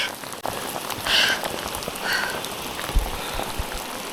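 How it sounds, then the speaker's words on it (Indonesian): Steady rain patters on surfaces along a hiking trail on Mount Sumbing via the Garung route, a close, even wash of drops with no talk. "Hujan."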